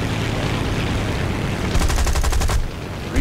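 Guns firing in the video game War Thunder, a fast rattling burst of rapid shots under a constant loud engine drone, brief and mid-clip.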